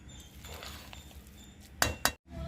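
A spoon mixes dal rice with grated coconut, soft scraping through the rice followed by two sharp close clinks against the vessel near the end.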